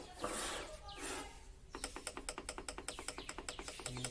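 A Stanley table saw's miter gauge rattles loosely in its miter slot, a fast, even run of sharp, close clicks and knocks that follows a brief stretch of softer shuffling noise.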